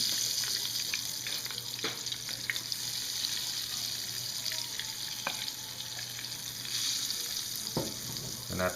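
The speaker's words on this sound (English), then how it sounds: "I put a tablespoon of mix on the butter." Spoonfuls of ebelskiver batter sizzle in melted butter in a pan, a steady close frying hiss with occasional soft clicks and taps from utensils, no talk.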